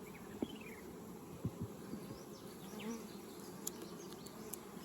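Honey bees buzz around a yard of 33 beehives as a faint, steady hum of many insects, with a few bees passing closer now and then, quiet and with no talk.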